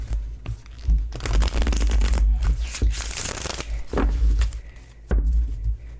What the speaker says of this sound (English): Let's cut these cards, shuffle, and see how they work.